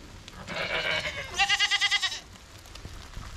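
A mother goat bleats loudly outdoors on a farm with rain starting, a long wavering call followed by a pulsing, stuttering bleat, close and clear against light background noise.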